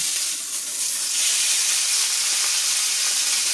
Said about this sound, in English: this is just the way it goes when you're searing steak